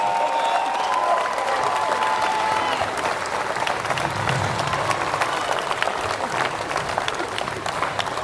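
A crowd at a youth climbing championship final gives loud, sustained applause with some cheering, a dense continuous roar of clapping with a voice briefly audible at the start.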